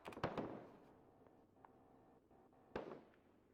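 Gunfire directed at infantry in a war video game, two sharp distant bursts with scattered faint pops between them over a quiet background.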